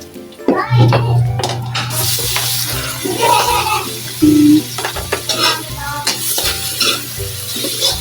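Tomato, onion and garlic are sautéed in a pan for sarciado, a loud frying sizzle with repeated stirring scrapes and clinks of a utensil on the pan, close by, with a voice talking briefly in between.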